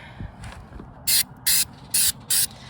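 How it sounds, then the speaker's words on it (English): Four short, loud hissing bursts of an aerosol coating spray on a trailer, evenly spaced, after a few soft clicks and knocks. "Now we spray the goo."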